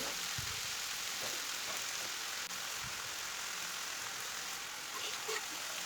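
Garlic, onions and peppers sauté in a pan for a Turkish oven-baked eggplant dish, giving a steady, even sizzling hiss with a few faint clicks and no talking.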